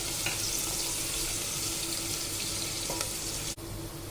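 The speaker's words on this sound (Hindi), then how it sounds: "प्याज को ब्राउन फ्राई कर लेंगे" Onion frying in about two spoons of refined oil in a pan, a steady dense sizzle that holds evenly throughout with a few faint clinks, ending in a brief dip.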